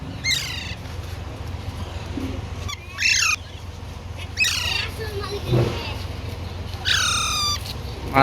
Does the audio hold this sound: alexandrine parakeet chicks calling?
yes